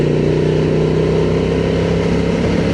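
A Honda 750 Transalp motorcycle engine holds a steady 5,000 RPM in fourth gear while riding, a loud continuous drone with wind rush and no gear changes.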